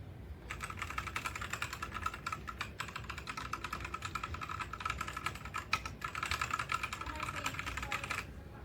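A DIERYA T68SE 60% compact gaming mechanical keyboard with brown switches is typed on continuously, giving a fast, even stream of soft clacky keystrokes heard close up with no talking.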